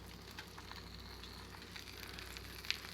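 Bread soaked in French toast batter frying in a pan, giving a soft, steady, continuous sizzle with a faint pop near the end; quiet and without voices.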